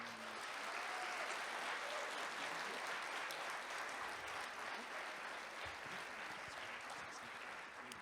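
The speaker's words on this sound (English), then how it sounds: "they deserve a huge round of applause" An audience gives volunteers a big round of applause: dense, steady clapping fills the whole eight seconds without a break.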